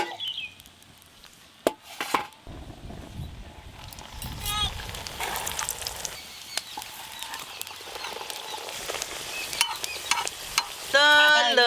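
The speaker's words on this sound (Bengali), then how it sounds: "এই একটা মোগলাই পরোটা ভাজা হয়ে গেল।" A Mughlai paratha fries in a pan with a steady sizzle and occasional clatter, while people talk nearby throughout.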